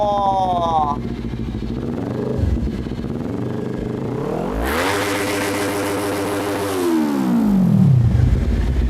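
A Kawasaki Ninja 400SE sport bike with an aftermarket long exhaust revs loudly and close by, its engine note climbing, holding, then falling and rising again, with someone talking over the start.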